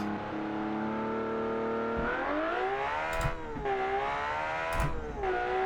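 An RB-powered wagon's engine revs repeatedly, its pitch swelling and falling in several climbs, with brief sharp bursts between revs and a steady mechanical drone underneath.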